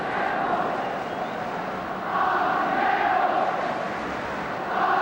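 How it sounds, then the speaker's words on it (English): A large football stadium crowd at a Northern Ireland versus Scotland match chants the Scottish captain Archie Gemmell's name, a steady distant roar swelling in waves with no commentary over it. "showing their appreciation of the Scottish skipper, chanting Archie Gemmell"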